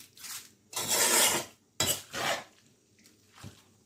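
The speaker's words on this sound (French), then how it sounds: "Bien mélanger avec la grande cuillère là." A large spoon stirs liboke in a pot, giving close scraping, rasping strokes in uneven bursts separated by short pauses.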